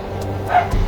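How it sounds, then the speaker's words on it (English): A dog barks in the distance, faint, a few short yips rising over steady outdoor background noise with low traffic hum. "You can hear a dog in the background"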